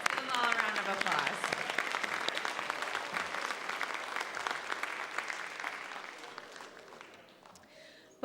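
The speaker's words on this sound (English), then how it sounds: "Give them all a round of applause." A large graduation audience applauds loudly, with cheering and whoops mixed into the clapping early on. The applause gradually thins and fades toward the end.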